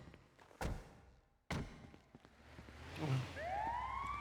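An ambulance siren in a video game starts its rising wail near the end, after a couple of sharp thumps and taps, fairly close and loud over low background noise.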